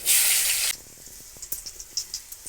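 Cumin seeds and four green chillies hit hot mustard oil in a kadai with a loud, close hiss that bursts out and then drops to a quieter crackle with scattered small pops.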